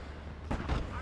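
A distant gun fires in the World War II Eastern Front strategy game Gates of Hell: Ostfront, making a brief muffled boom or two over a low rumbling game background.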